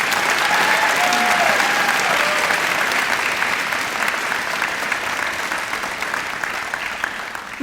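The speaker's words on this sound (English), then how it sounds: "Let's give Stephanie another round of applause." A graduation audience at Perry Technical Institute in March 2023 applauds a student speaker with a full, sustained wash of clapping from a large crowd, easing off slightly toward the end.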